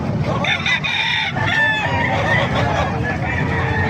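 Several roosters crow over one another in a busy chorus at a poultry market in Calumpit, Bulacan, with chickens clucking close by and steady yard noise underneath.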